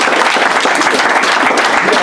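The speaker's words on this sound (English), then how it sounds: "Give him a hand." Loud, close applause from an audience at a community group gathering, dense rapid clapping sustained without pause across the moment.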